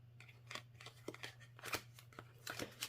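A deck of playing cards being shuffled, heard as a quiet series of short papery riffles and snaps in an uneven rhythm over a steady low hum, with no talking.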